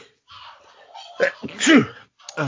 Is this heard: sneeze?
yes